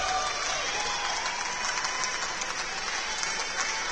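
A crowd at a professional squash semi-final breaks into sustained applause after a hard rally, steady clapping that stays dense and fairly distant throughout.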